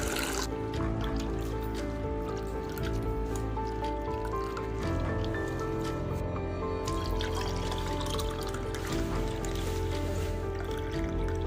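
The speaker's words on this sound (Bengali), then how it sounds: "এর ভিতরে মিশিয়ে নেব অনেকটা জল" Plenty of water is poured into a village-style chicken biryani mixture in a continuous, even stream that trickles and splashes steadily from start to finish, close and moderately loud.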